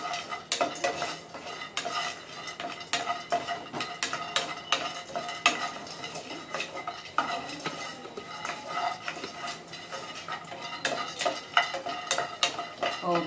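Dry fruits dry-roasted in a pan without ghee for oats kheer, with continuous close stirring and scraping, clinking utensil taps and a faint sizzle throughout.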